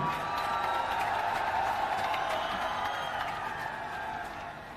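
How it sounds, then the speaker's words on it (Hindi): Large rally crowd in Bijnor, Uttar Pradesh, welcoming Mayawati with sustained, dense applause and cheering, a steady wash of clapping that fades slightly at the end. "जोरदार ताली बजाकर स्वागत करें"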